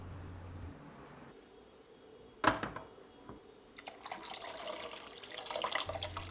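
Water from a tap pours into a cooking pan holding quince pieces and their seeds, a faint steady trickle that breaks into a louder splashing gush midway and keeps running to the end.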